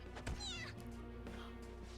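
A cat in Persona 5 Royal lets out a loud, wavering meow over a steady hum of game music and ambience, followed by a brief, fainter second call.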